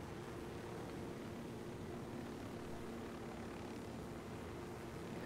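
Helicopter in Ghost Recon Wildlands, a steady droning rotor and engine hum heard alone at moderate distance, constant and unbroken throughout.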